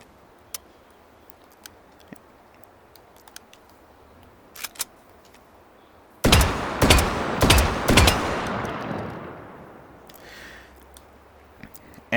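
Semi-automatic trench gun from Hot Dogs, Horseshoes and Hand Grenades fires four close, loud shots in quick succession after a quiet stretch of faint clicks, then its echo fades out.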